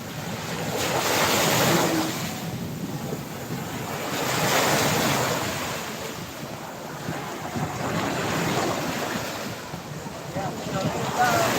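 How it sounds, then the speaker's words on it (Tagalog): Sea waves surge and wash ashore in slow, repeating swells, roaring up and fading back, with wind buffeting the microphone throughout. "tabi lang tayo ng dagat ngayon dahil medyo maalon-alon"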